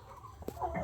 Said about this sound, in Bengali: এদিকে আমাদের মুরগি মনে হয় উড়ে গেছে